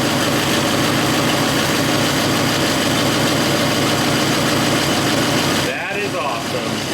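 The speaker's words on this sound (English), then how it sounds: "It is idling off this complete low fuel system right now." 1959 Studebaker Lark engine idling on its factory tank and mechanical fuel pump after 36 years off the road, a loud, steady, rumbling idle that fills most of the clip before dropping abruptly near the end.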